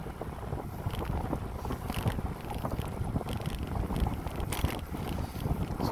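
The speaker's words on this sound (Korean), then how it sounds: "바람이 세게 불어가지고" Strong wind roars across the microphone while cycling along a Korean riverside bike path between Dalseong Weir and Hapcheon-Changnyeong Weir, a continuous buffeting rumble with gusty surges throughout.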